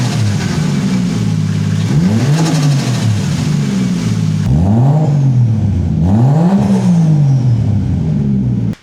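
A 1JZ-swapped Nissan Cefiro A31 engine revs hard in repeated rising and falling sweeps, loud and close, with a steady exhaust drone between the blips.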